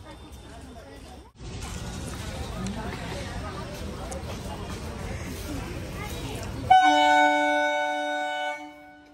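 Near Princep Ghat, a train rumbles past as a broad, steady roar lasting several seconds, ending in a loud, sustained horn blast with clear harmonic tones, while people chatter nearby.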